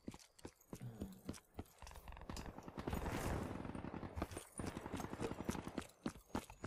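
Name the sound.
video game gunfire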